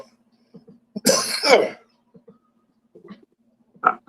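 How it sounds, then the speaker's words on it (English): A person coughs during a live stream, one harsh burst of coughing in the middle and a shorter cough at the end, with faint clicks and quiet gaps between. "I was coughing."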